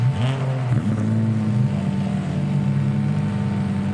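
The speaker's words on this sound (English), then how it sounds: "All of the engines then popping off here." Lotus race car engines firing up on the grid at Monza, a steady droning idle with pitch shifts near the start, then a sustained even hum, loud and close with no voices.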